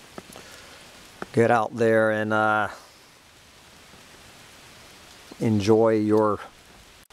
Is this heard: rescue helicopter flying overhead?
no